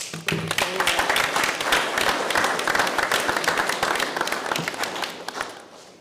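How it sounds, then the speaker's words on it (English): School board meeting audience gives a big round of applause, many hands clapping close and lively for about six seconds before tapering off at the end. "Should we give them one more big round of applause?"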